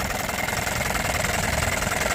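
An Evinrude 10 hp outboard boat engine for a pontoon boat runs steadily nearby, a loud continuous idle with a rapid, even chugging pulse throughout.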